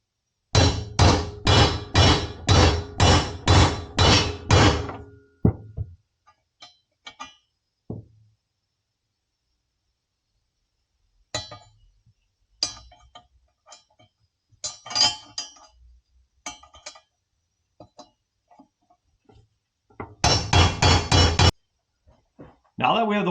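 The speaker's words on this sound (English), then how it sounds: "We're going to use our socket and we're going to hit the socket." A hammer striking a socket to seat a Harley Davidson round swingarm bearing race: a rapid burst of about eight loud metallic blows, scattered lighter taps and clinks, then another quick burst of blows near the end.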